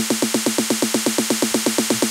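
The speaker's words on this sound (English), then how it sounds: "So the one I have here is 1/16th notes throughout, like a typical tech house snare buildup." A tech house snare roll in steady sixteenth notes repeats with an even, punchy rhythm across the whole stretch, with no voices over it.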